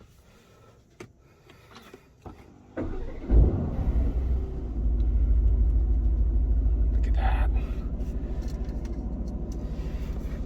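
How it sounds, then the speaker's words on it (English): A 2022 Aston Martin Vantage engine cranks and fires with a sharp bark, flares to a loud rumbling rev, then settles into a steady deep idle. A voice speaks briefly just before. "start the car."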